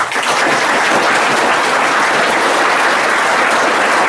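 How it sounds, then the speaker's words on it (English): Sustained loud applause fills a school function hall as a student audience claps steadily and densely for several seconds, with no talking over it. "Give them a big clap."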